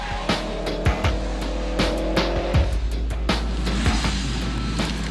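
A Subaru Impreza WRX STI with four-wheel drive corners sharply around pylons on tarmac, engine droning steadily with repeated rhythmic thumps and brief tire noise, loud and close.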